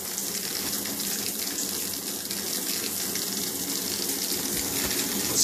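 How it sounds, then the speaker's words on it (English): Water spraying from a solid brass Venice Speakman adjustable shower head, a steady dense hiss and splatter of falling water, loud and continuous throughout with no talking. "And it changes to our shower head."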